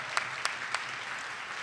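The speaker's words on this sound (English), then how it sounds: "give yourselves an applause for being one of the first to do that" Graduates at a 2021 college commencement applaud, a short burst of crowd clapping with a few sharper claps standing out, moderately distant and steady across the moment.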